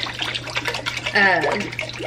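Vegetable broth pours into a pot in a short close splash and gurgle, with a person talking over it.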